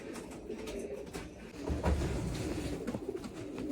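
Pigeons from a fancy breeding loft coo softly nearby in a short burst of low, throaty calls, with faint wingbeats and shuffling around them.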